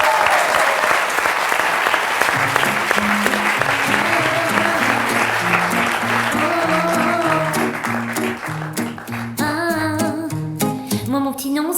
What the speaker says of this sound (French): je crois qu'on peut déjà les applaudir.